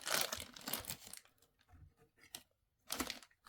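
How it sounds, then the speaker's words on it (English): Plastic bag handled by hand, crinkling in loud bursts at the start and again near the end, with quieter rustles between, close up and with no voices. "let's take a plastic bag"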